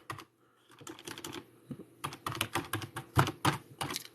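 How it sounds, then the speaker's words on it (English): Fingers type on a computer keyboard up close in quick irregular bursts of crisp key clicks. The taps come faster and louder toward the end. "I'm also going to be typing exactly the same thing that I did in there."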